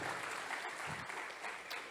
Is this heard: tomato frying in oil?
no